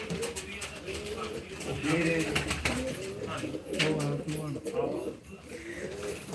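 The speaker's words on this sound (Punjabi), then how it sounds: "ਇੱਥੋਂ ਵੀ 6 ਦੇ 6 ਕਬੂਤਰ ਜਿਹੜੇ ਉੱਡ ਰਹੇ ਨੇ ਵਧੀਆ ਉੱਡ ਰਹੇ ਨੇ" Pigeons kept on a home rooftop coo repeatedly and fairly close while someone talks over them in a lively outdoor setting.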